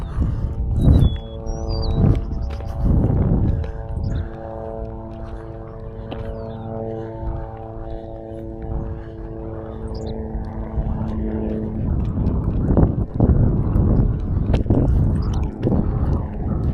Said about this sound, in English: Sounds like a helicopter's coming back.